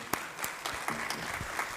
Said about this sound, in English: Big round of the applause for him